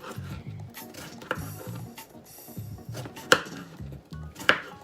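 A knife chops vegetables on a cutting board for vegan ramen, a rapid close series of rhythmic thuds with a few sharper, louder knocks standing out, and no talking.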